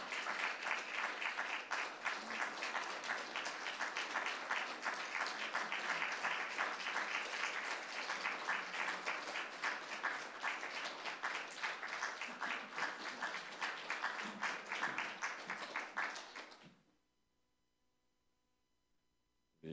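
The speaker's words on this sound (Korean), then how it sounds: "드릴 때 큰 박수 주시기 바랍니다." A church congregation applauds teachers during a Korean Sunday worship service on Teachers' Sunday, with long sustained clapping that stops abruptly into near silence.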